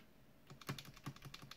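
Gaming keyboard switches with the keycaps removed are typed on in a quiet room, giving a quick run of about eight sharp, clacky keystrokes close to the mic.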